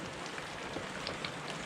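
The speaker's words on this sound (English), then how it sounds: "at least it's raining" Rain falling steadily on a surface during a heavy flooding downpour, a soft continuous hiss with scattered faint drip taps, no voices.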